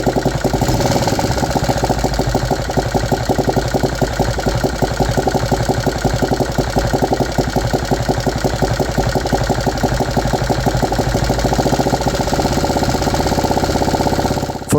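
A 3D printed engine idles steadily at a properly set idle speed, its fast, even firing pulses loud and close for the whole stretch with no voices over it.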